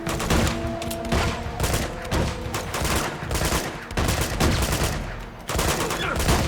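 Rapid bursts of gunfire from the video game Uncharted 2: Among Thieves, loud and dense, with overlapping shots and machine-gun fire in clustered volleys separated by brief gaps.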